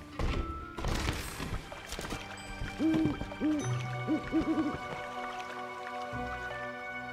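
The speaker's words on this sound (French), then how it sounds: "Le chant du hibou." Hooting owl song in the Baldo video game, a short melodic run of soft hoots in the middle of the clip over a layered game soundscape with dripping and thudding effects.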